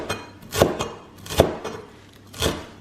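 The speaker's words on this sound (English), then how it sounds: "Cut coriander really fine chop." A knife chops coriander finely on a board in three distinct, close knocks spaced about a second apart, each followed by a soft scraping rustle.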